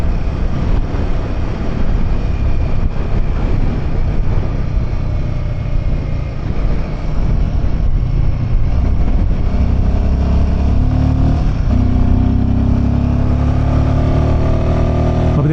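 A motorcycle rides along Pangong Lake in Ladakh, its engine droning loud and steady with wind rush throughout, the pitch rising a little in the last few seconds as it accelerates.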